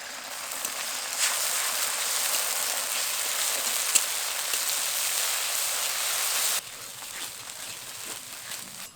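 Paste of ginger, garlic, cumin and chili goes into oil with lightly fried chopped onion and sizzles in a steady hiss for several seconds, then drops abruptly to a softer crackle.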